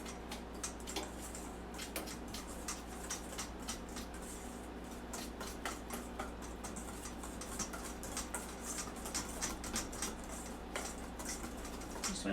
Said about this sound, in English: started with the whisk. I'm going to mix it all together. It'll be a fairly thick batter.